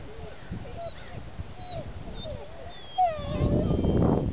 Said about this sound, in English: Got 5 of these beautiful, gorgeous dogs available.